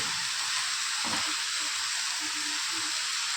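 Leafy greens (saag) sizzle and hiss steadily in a wok as they are stirred, a close, continuous frying crackle with occasional soft scrapes and no talking.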